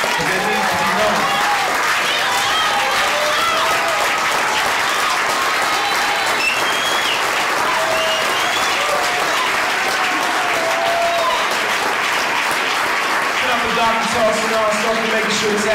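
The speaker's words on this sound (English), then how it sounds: "So they need to be applauded and honored." A live audience claps and applauds steadily and loudly for young men on stage, the dense clapping filling the whole stretch while voices call out and cheer over it.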